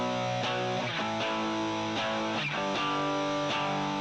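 Two layered electric guitar tracks, one distorted and one cleaner, are strummed together on the right side of the mix. The chords are loud and dense, repeating in a steady rhythm, with no voice heard.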